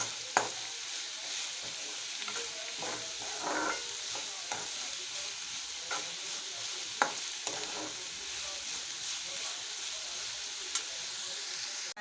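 Onion frying in a pan to a reddish brown, a soft steady sizzle and hiss with occasional light spatula taps and stirs.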